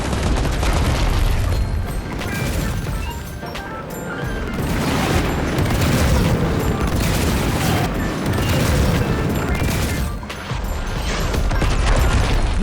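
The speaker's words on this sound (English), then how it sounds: "pieces of the comet began to hit the island, destroying man-made structures" Comet pieces slam into the island in Fortnite, setting off a dense, loud barrage of booming explosions and crashing debris with rumbling, rattling impacts that continue without pause.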